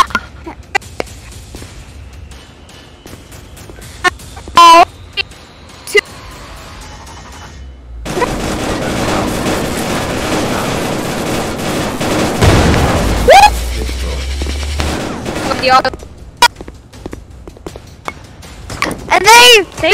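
Gunfire in a VR shooting game: scattered shots and bursts with bangs, including a long sustained noisy stretch mid-clip, mixed with footsteps and a person talking over the game.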